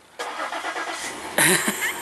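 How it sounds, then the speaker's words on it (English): A car engine cranks and fires up outdoors on a very cold day, catching with a loud close roar after a brief starter whirr, then settling into a steady run. "He just started the car because we are headed out."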